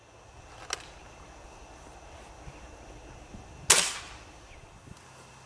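A Crosman Quest 1000 break-barrel .177 air rifle firing pellets, two sharp cracks well apart, the second louder with a brief ringing tail, over quiet background.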